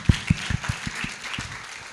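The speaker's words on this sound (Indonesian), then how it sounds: "Tepuk tangan dong untuk Bu Lina." A handful of distinct claps from a small audience at an Indonesian talk event, about seven sharp hand claps spaced irregularly and thinning out within two seconds.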